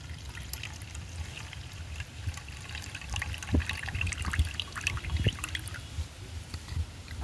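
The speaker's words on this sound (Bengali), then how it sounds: "তো চালটা আমি একবার থেকে 2বার ধুয়ে নেব।" Rice being washed by hand in water, with irregular splashes, drips and trickling, close and moderately loud, with no talk.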